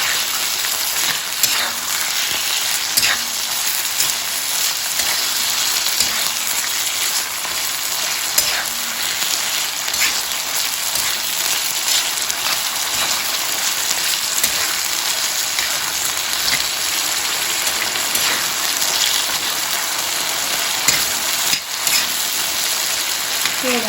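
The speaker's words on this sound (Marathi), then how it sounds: "चांगली तेलावर परतून घ्यायची कोळंबी" Prawns sauté in hot oil in a pan for prawn pulao, making a loud, continuous sizzle and crackle throughout, with occasional soft stirring clatter.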